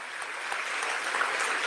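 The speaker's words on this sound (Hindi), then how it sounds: "एक बार जोरदार ताली बजा के इनका धन्यवाद किया जाए" Applause from an audience at a political event in Jaipur fills the whole moment, dense and sustained at moderate loudness with no voices over it.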